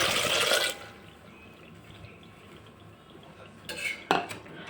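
A cup of dry pasta is tipped into a pot of water and oil for cheese pasta, making a brief, bright rattling clatter, then a quiet lull before a couple of short metallic knocks.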